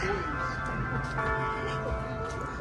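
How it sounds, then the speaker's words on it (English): Bells ring from the bell tower at Balboa Park, a sustained layered chime held throughout, partly masked by outdoor crowd noise and nearby voices. "Bell tower's just going off."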